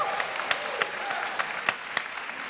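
Audience applause at the NY 23rd District congressional debate, a dense, steady patter of many hands with a few sharper claps standing out, continuing throughout.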